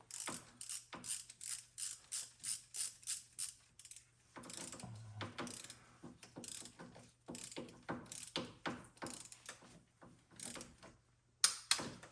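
A ratcheting torque wrench set to 7 foot-pounds tightens the valve cover on a 2007 Audi A8L, making rapid, regular ratchet clicks in close, faint bursts with short pauses between them.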